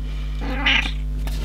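An 18-year-old pet cat gives a single short meow indoors, close and clear over a steady low electrical hum, with no talking.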